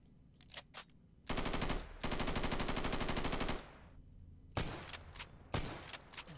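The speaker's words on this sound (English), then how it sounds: "that's a shotgun from Insurgency as well" Shotgun fire in the Insurgency style comes from the free-to-play FPS game Burst. A few sharp reports are followed by a long, dense burst of rapid shots, then more single blasts, all close and fairly quiet in level.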